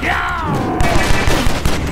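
Rapid gunfire bursts from the action video game Stranglehold, loud and dense shots over a continuous game soundscape, with a faint voice beneath.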